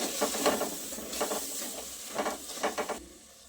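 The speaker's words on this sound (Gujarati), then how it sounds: "હળદર પાવડર છે લાલ મરચું પાવડર ધાણા જીરું પાવડર ઉમેરીશું બધું સરસ મિક્સ કરી દઈએ" Turmeric, red chili powder and coriander-cumin powder being stirred into a frying palak masala khichdi mixture, with repeated scraping strokes in short bursts over a soft, continuous sizzle, close and clear.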